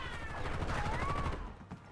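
Video game gunfire: a dense, steady rattle of rapid shots that fades toward the end, with a faint whistling tone drifting above it.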